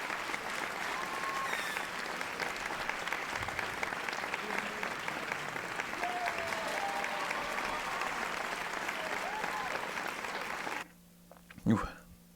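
A large audience applauds steadily for about eleven seconds, a dense wash of clapping that cuts off abruptly, followed by a brief faint noise.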